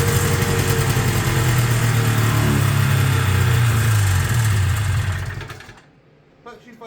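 A 1975 John Deere 600D engine runs loud and steady with a rough, throbbing idle close by, then shuts off abruptly near the end, leaving near silence.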